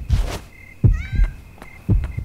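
A cat in Yomawari: Night Alone lets out a clear, high meow, set among a few dull, rhythmic thumps like a heartbeat.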